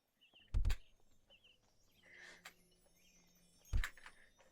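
Two soft thunks in a fantasy video game as a player's avatar lands on the ground, spaced about three seconds apart, with faint chirping birds in the background ambience.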